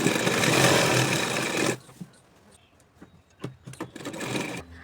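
A sewing machine runs a shoulder seam on a kurti with a loud, close whir for under two seconds, then stops, followed by soft taps and fabric handling.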